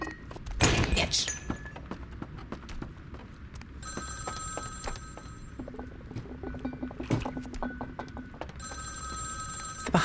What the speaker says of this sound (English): is there a phone I have to pick up?